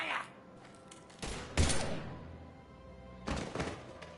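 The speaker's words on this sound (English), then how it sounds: "Now open fire!" Gunfire in a video game: two bursts of heavy, booming shots, one around the middle and another near the end, over a low ambient rumble with no talk.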